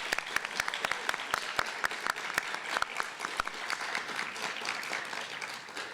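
A graduation audience gives a round of applause for teachers and families, a crowd of many hands clapping steadily for several seconds, with sharp individual claps ringing out near the front over the broader wash.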